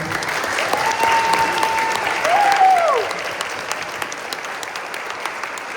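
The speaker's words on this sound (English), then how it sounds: "give a round of applause to all the coaches out here" Audience applause for volleyball coaches at a spring awards event, steady clapping from a crowd, with a brief whistle-like tone rising over it partway through.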